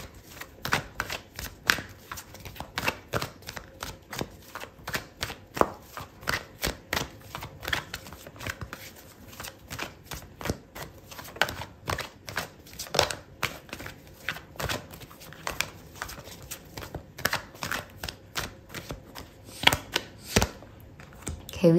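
Tarot cards are shuffled at close range, giving a long run of soft papery riffles and slaps in uneven bursts that continue steadily throughout.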